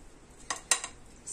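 Utensil clinking against a bowl while ingredients are mixed for a light snack, a few quick scraping clinks close by, then quiet.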